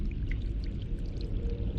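Water pours in The Longest Journey, a steady, gurgling flow with low rumble and faint bubbling tones, continuous and moderately quiet throughout the short stretch.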